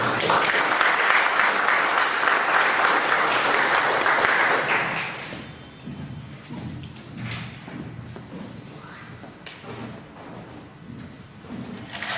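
An audience at a lawyers' association event in Lambayeque, Peru, gives loud, dense applause for a superior court judge; sustained clapping for about five seconds that then drops away to quiet room noise.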